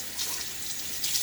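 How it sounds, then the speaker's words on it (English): Water splashes and trickles as a safety razor, a Wolfman WR2, is dipped and swished in a sink basin during a wet shave, with steady running-water hiss, close and fairly loud, and no talking. "I'll dip it in the water again, just to show you how much soap that we're using here"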